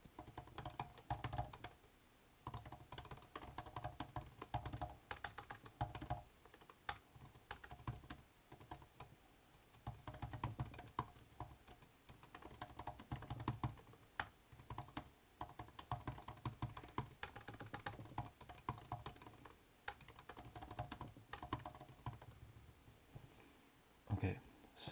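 Computer keys clatter in quick irregular bursts as code is typed, close and fairly faint, with brief pauses between runs of keystrokes.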